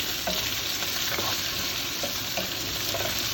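Spicy potatoes fry in hot oil over a high flame, giving a steady, close sizzle with scattered stirring clicks and scrapes throughout and no voices.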